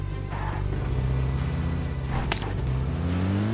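A car engine in a video game runs steadily, with a low hum whose pitch rises and falls as the vehicle accelerates. It stays at a constant loudness throughout, with no voices.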